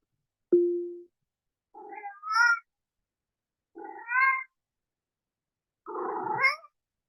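Cat meows played by an Alexa Box of Cats skill on an Echo smart speaker: a short tone followed by three separate meows spaced about two seconds apart, clear and close against silence.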